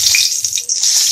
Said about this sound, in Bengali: সব মাছগুলো ভেজে নিয়েছি, এবার কড়ায় দিয়ে দেবো, ওই তেলেতেই দিয়ে দেবো